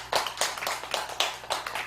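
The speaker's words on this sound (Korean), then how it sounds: "우리 불사님들 한번 박수 한번 쳐주십시오" An audience at a Buddhist temple memorial service claps together, a brisk, moderately quiet round of hand claps with uneven bursts, heard from a short distance in a hall.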